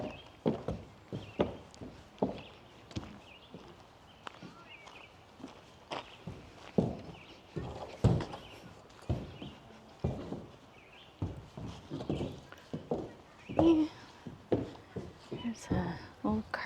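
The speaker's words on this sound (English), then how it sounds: "The horse is going in his stall." Hooves of a horse walking into its stall at a heritage village in Morrisburg, Ontario, a steady clip-clop of uneven hoof strikes close by, with people talking quietly in the background.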